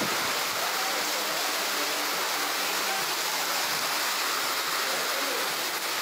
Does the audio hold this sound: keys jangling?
no